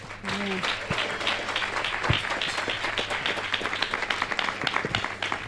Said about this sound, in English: May you go clap your hands